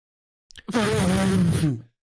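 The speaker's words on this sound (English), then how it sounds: "Little fart." A single loud, buzzy fart lasting about a second, close and alone against silence.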